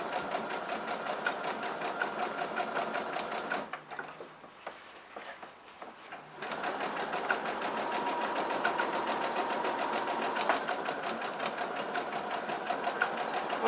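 A sewing machine stitching quilting lines on a fabric placemat, a fast rattling whir that runs steadily, drops away briefly partway through, then resumes at full pace, with no voices.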